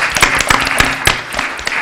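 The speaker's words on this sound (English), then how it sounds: "So let's just give Eben and the SFLC a big round of applause." Audience applause after a panel discussion at a 2014 Software Freedom Law Center free and open source software conference, a short burst of fairly loud, uneven clapping with distinct individual claps standing out.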